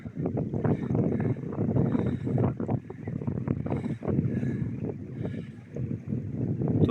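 A small tourist boat, stopped at sea off Thassos for a swimming break, gives a steady broadband rumble of wind and water that stays loud and continuous with no speech.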